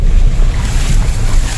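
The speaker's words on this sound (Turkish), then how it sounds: "Akıyor dere." A creek flows through a forested field in early summer, producing a loud, close, continuous rushing of water mixed with gusty wind buffeting the microphone.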